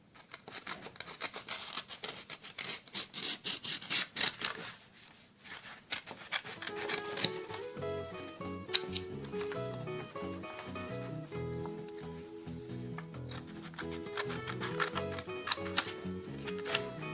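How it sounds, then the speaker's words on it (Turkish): Scissors cut paper printouts for homemade stickers, heard as close, continuous snipping and rustling paper, busier after a brief lull partway through, with no talking. "Şimdi bunları kenarlarından çok içe girmeden keseceğim."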